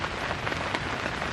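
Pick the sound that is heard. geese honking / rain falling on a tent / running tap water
rain falling on a tent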